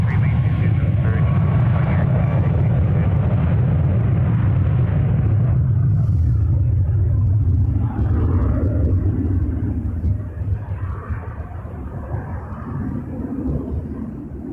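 An airliner rolls down runway 23 at Toronto Pearson Airport on takeoff, its loud, steady engine roar filling the clip before slowly thinning and fading as the jet climbs away, with faint radio chatter underneath.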